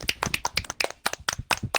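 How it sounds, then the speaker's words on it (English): A single pair of hands clapping in a quick, uneven run of sharp, close claps, fairly quiet and heard on their own without talk. "Can I get a round of applause?"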